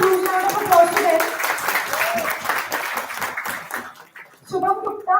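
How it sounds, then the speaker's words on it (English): An audience at the ICMDISR-2024 conference applauds, with a steady patter of clapping running under voices, easing off briefly near the end before swelling again. "Sushmita Vishwas, Shubham Gupta, guys, please give a huge round of applause to them."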